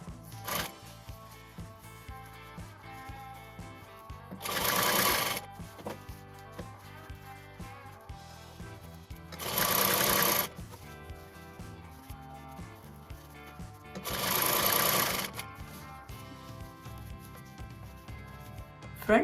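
A sewing machine stitching a dress bodice runs in three short bursts of whirring, separated by pauses filled with soft background music.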